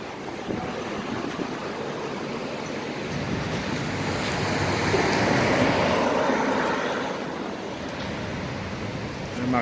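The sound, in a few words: sandstorm wind blowing sand across the road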